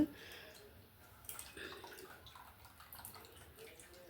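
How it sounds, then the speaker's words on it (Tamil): Soft, close squelching and sloshing as cooked tomato and tamarind are mashed by hand and dissolved in water for rasam, faint and irregular throughout. "அந்த தக்காளி புளி அதை வந்து நல்லா கரைச்சி எடுத்துக்கலாம் தண்ணி விட்டு"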